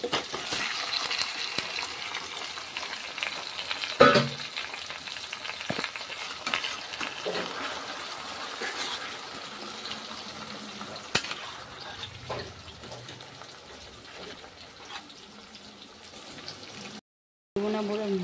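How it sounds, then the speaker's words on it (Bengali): Marinated meat fries in a pan with browned onions, a steady sizzle punctuated by scraping stirs and a few clinks, no one talking, ending in a short silence. "পেঁয়াজটা যখন একটু বাদামি বাদামি ভাজা হয়ে যাবে তখন ম্যাগনেট করা মাংসটা দিয়ে দেবো"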